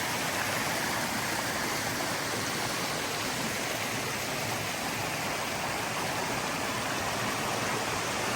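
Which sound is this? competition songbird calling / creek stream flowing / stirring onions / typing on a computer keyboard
creek stream flowing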